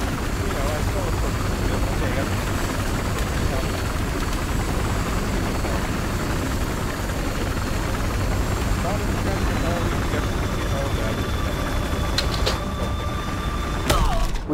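A helicopter's rotor chops steadily under loud Battlefield Hardline game noise, with voices talking over it and a few sharp bursts near the end.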